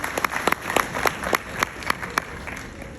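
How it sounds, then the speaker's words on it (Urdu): Audience applause at a literature festival event in Muzaffarabad, with scattered, fairly sparse claps of moderate loudness, rising and thinning over a few seconds with faint crowd murmur beneath. "تو ان کے لیے مضبوط تالیاں"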